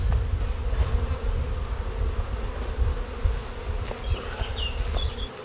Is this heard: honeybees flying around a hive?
yes